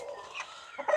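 A Light Sussex rooster gives soft, low clucks and throaty mutters, fairly close but quiet, ending in a brief louder burst of clucking.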